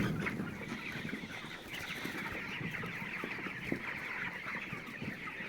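Chickens in a poultry shed in Bangladesh during winter cluck and murmur softly, a low continuous flock chatter with faint scratching, distant and quiet, without speech.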